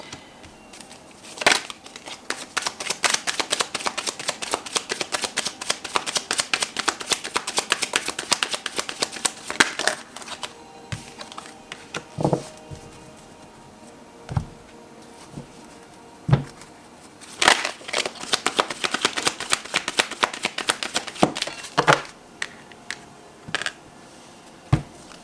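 Tarot cards are shuffled in repeated bursts of dense riffling and flapping, close and fairly quiet, with brief pauses and a few louder taps between runs.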